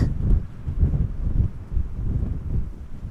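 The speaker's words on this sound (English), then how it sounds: "It's just a bit windy." Gusty wind at Amsterdam Schiphol Airport buffeting the microphone, low rumbling bursts rising and falling, loud and close with nothing else clearly heard.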